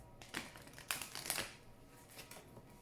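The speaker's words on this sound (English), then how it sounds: "Please think of your question while I shuffle the cards" A deck of angel oracle cards is shuffled, giving a few quick papery riffles and crinkly bursts in the first half, then softer rustling that trails off, with no talk.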